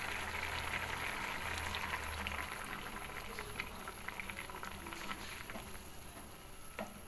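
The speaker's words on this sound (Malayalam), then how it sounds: "കറിയൊക്കെ തിളച്ച് കുറുകി വന്നിട്ടുണ്ട്" A pot of green peas curry bubbles and thickens on the stove, giving a continuous dense simmer with small pops throughout. The sound is moderately quiet and there is no talk.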